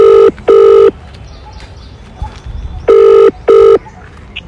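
A telephone rings loudly and close by in two pairs of short, bright electronic trills, with a quiet gap between the pairs and faint background noise.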